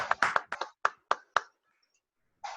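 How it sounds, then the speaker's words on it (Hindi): About seven sharp, separate claps in quick succession, fairly close and then stopping, with a short sound following a gap of silence, in an indoor orientation training session for a speaker. "साथियों एक जोरदार तालियां योगेश सर के लिए"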